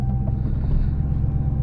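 Deep, steady exhaust rumble from a stock Dodge Hellcat SRT V8 idling up close, loud and continuous with no speech.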